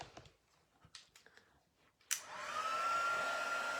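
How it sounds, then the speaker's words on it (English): A heat gun used to heat-emboss silver powder on a handmade Christmas card switches on with a sharp click after a few light tapping sounds, then blows a steady, close whooshing hum with a faint whine. "And then just going to emboss, heat emboss that."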